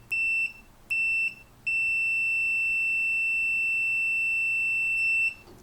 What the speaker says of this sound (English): this has a loud beep